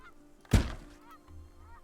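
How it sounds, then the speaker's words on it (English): Geese in the survival city-building game Farthest Frontier let out one loud, clear honk at mid-range, followed by a faint low rumble of game ambience. "I hear geese, which is really awesome to hear."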